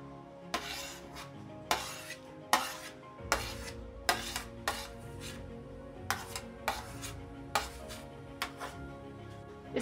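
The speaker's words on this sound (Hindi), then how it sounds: "इसी में जो एलोवेरा का जेल निकाले थे उसको डाल देंगे" Aloe vera gel being stirred into cold oil in a pot, with a series of scraping, clattering stirring strokes at an irregular rhythm, close and fairly clear with no speech.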